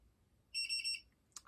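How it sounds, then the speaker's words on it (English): A single high electronic beep from a Dell OptiPlex 7010 desktop computer after exiting BIOS, lasting about half a second, clear and steady, followed by a brief faint click in an otherwise quiet room. "you'll get a beep like that after you get out of the BIOS"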